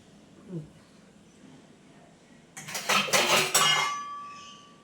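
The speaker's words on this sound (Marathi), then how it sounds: "बेशमध्ये बरीच भांडी घासायला पडली" After a quiet stretch, dishes clatter and clink in a sink piled with many dishes for a couple of seconds, close by, ending with a lingering metallic ring.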